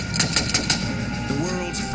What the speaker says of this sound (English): with machine guns and rifles.